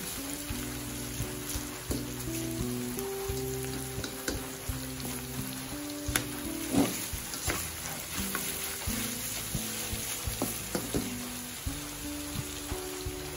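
Bamboo shoots, cooked with coconut milk and saluyot, sizzle steadily in a frying pan while being stirred, a continuous close crackle with scattered scraping taps of the utensil and a low sustained tonal hum underneath.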